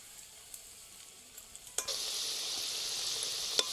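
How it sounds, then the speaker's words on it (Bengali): Papaya pakoras fry in oil over low heat, starting as a faint crackle that swells into a steady bright sizzle with a few sharp pops, close by, with no talking. "হালকা আঁচে এগুলোকে ভাজতে হবে"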